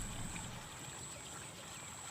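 Water flows steadily along a waterway swollen after weeks of heavy rain, a soft continuous rushing wash heard at some distance, faint and unbroken, with a thin steady tone above it.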